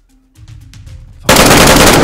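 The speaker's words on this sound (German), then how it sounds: "Von wo kommen die Schüsse?" Video game gunfire erupts suddenly as a loud, dense burst of rapid automatic shots. Before it comes a short stretch of quiet, low murmuring.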